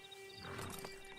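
A horse in the video game Red Dead Redemption gives a faint, soft snort or whinny over a low steady game hum, heard alone without talk.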